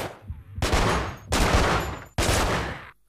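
Three loud bursts of rapid gunfire from the action game Manhunt, each lasting about half a second to a second with short gaps between, close and harsh.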